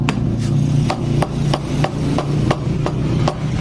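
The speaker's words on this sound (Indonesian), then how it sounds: "Dipukul pakai palu karet." A rubber mallet strikes a stuck engine part of a 2019 Honda Scoopy scooter during engine teardown, giving about eleven sharp, evenly spaced knocks over a low, steady background hum.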